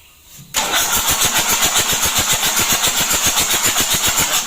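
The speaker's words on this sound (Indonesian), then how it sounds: "Ini sudah kita isi, kita coba dulu starter." A motorbike engine that had been submerged in water cranks on the electric starter and catches after half a second, then runs at a loud, close, steady fast idle with an even pulsing beat.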